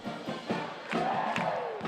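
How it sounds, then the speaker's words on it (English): The Utah State student section chanting at a home basketball game in the Spectrum, heard as a large crowd shouting in rhythmic bursts roughly every half second, loud and reverberant throughout the short clip. "This is the Utah State Herd, and chants like these are one reason USU wins so many games at home."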